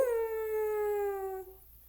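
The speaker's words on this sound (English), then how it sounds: "and he howled" A single long, clear coyote howl that starts high and slides gently downward before cutting off, heard alone and fairly close.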